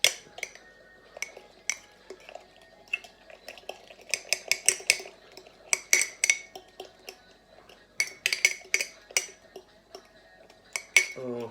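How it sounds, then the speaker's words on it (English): A whisk and spoon work a mixture in a bowl, producing quiet scraping with bright metallic clinks and taps in uneven bursts, close and fairly soft. "Okay, and then we'll give that another little stir. Little whisk, get it all mixed in together."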